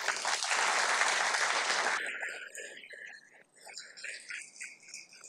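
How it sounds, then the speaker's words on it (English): Audience applause at a Fort Worth city council meeting, a dense burst of clapping for about two seconds that quickly fades into scattered claps and room murmur. "your job today is to welcome her with a round of applause"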